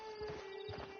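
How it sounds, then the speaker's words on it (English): A horse in the Red Dead video game clip-clops in a short run of soft hoof falls, moderately close, under a steady game music drone with no voices. "Get on the horse there."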